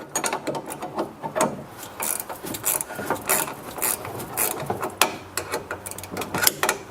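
A wrench works the sway bar bushing nut on a Chrysler 300 front suspension, giving repeated close ratcheting clicks and metallic rattles in irregular bursts over several seconds, with no talking.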